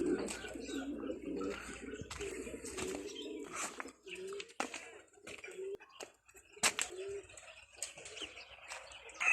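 Fancy pigeons of varied breeds at an ornamental bird and poultry collection coo repeatedly in soft, throaty rolls, with chirps and scattered bird calls mixed in nearby.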